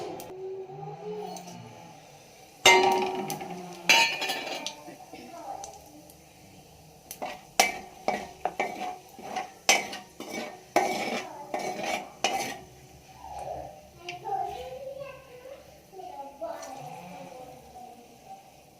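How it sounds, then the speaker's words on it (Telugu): Whole garam masala spices go into hot oil left from frying fish, followed by a run of metal spoon clatters and stirring knocks against the pan, with a faint sizzle and someone speaking softly. "ఇప్పుడు అందులో ఇదే ఆయిల్లో మనం ఈ గరం మసాలాస్ అన్నీ వేసేసుకుందాం"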